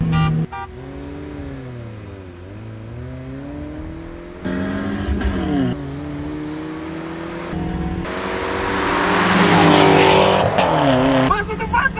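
Two BMW E36 cars accelerate hard in a drag race, engines revving up through several gear changes with rising, falling whines, the roar swelling loudest near the end.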